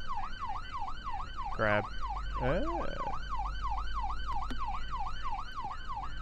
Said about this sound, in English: I guess I forgot to turn my sirens off